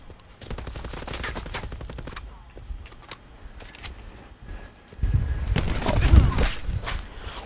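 Bursts of gunfire in a game, rapid volleys of shots early on, then scattered single cracks, and a louder, denser barrage near the end, with voices talking over parts of it.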